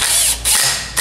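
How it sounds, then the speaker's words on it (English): Impact wrench rattling on the clutch retaining nut of a Rotax Max 125 kart engine, two short, loud, close bursts of buzzing hammering with a brief gap between them. "You can just give it a little light zap with the rattle gun"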